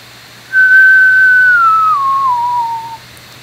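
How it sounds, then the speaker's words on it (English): A person whistles a single sustained note, clear and loud, that slides gradually downward in pitch over about two and a half seconds against a quiet hum. "And now if I whistle, it should be a little clearer."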